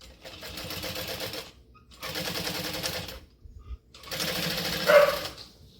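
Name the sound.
sewing machine stitching a seam on a pack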